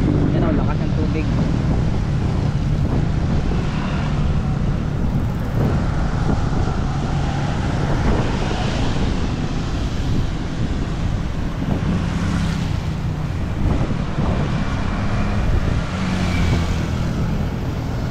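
Strong rushing floodwater of the Marikina River in the Philippines during a typhoon, a loud continuous roar with broadband churning and wind buffeting the microphone, while someone speaks over it at times.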